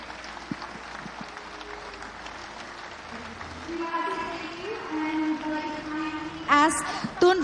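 A large audience applauds and rises for Mahathir Mohamad at a NasDem national working meeting lecture, steady dense clapping filling the hall, with some crowd noise and a voice near the end.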